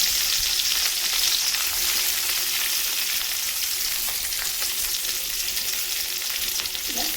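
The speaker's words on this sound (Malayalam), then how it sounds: "ആദ്യം ഞാൻ കറിവേപ്പില ഇടുവാണ്. പച്ചമുളക് വീട്ടിലിട്ട്" Curry leaves and green chillies frying in coconut oil in a pan for a mushroom curry, giving a loud continuous close sizzle and crackle throughout with no speech.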